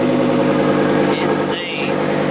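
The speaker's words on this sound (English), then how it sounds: "Listen to the exhaust." Lamborghini Huracan Evo V10 exhaust idling behind the car, a steady deep burble with layered low harmonics, loud and close, broken only by brief faint background noises.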